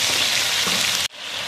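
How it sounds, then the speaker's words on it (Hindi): Whole garam masala and garlic-ginger paste fry in hot oil with a loud, dense, steady sizzle that cuts off abruptly near the end, leaving a quieter hiss. "सबसे पहले हम इसमें साबुत गरम मसाला डालेंगे और साथ ही हम इसमें लहसुन अदरक पेस्ट डालेंगे।"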